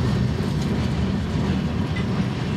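BNSF freight train led by an SD40-2 snoot locomotive working a switching move in a Galesburg rail yard, a steady loud rumble of engine and rolling cars with a faint clickety-clack throughout.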